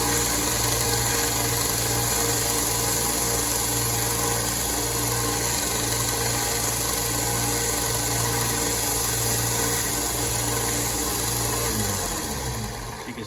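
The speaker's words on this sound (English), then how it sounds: "hold it on the sander and do this" A sander whirs steadily and loudly for about thirteen seconds while a wooden round-body square bill crankbait lure body is held against it to contour its edges, winding down at the end.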